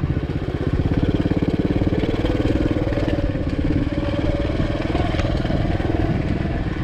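A Racer 110 motorcycle being ridden without the clutch, its small engine droning steadily and loud with a fast, even putter throughout, close to the rider.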